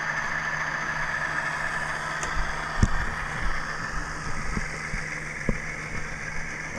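An Intermountain ES44AC GEVO model locomotive produces a steady, quiet engine drone with a faint high whine, punctuated by soft clicks and knocks from the track.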